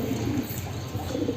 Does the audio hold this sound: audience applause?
no